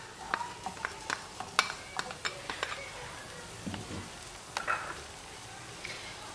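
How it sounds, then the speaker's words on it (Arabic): Sliced onion fries in a little olive oil in a pan on a gas burner. Faint sizzling runs under a string of light scraping and tapping knocks as the utensil stirs. "في مقله اللي درتها على البوطه ودرت فيها شويه ديال زيت العود، غادي ندير البصله"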